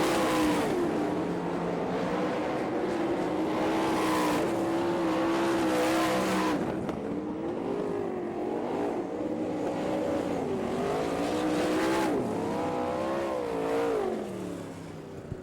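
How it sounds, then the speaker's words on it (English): Sprint race cars at an All Star Circuit of Champions race in Florence, Kentucky roar around the track through turns 3 and 4 toward the checkered flag, engines loud and revving with pitch rising and falling as they pass. "Your leader working through turns 3 and 4, coming down for the checkered flag."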